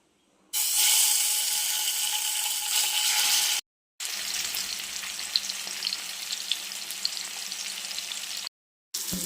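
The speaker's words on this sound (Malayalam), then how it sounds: "റെഡിയാക്കി വെച്ചിട്ടുള്ള മീൻ അതിലേക്ക് ഇടാം." Ayala mackerel fish fries in hot coconut oil in a pan, giving a loud, steady, close sizzle with crackling and spattering that cuts out briefly twice before resuming.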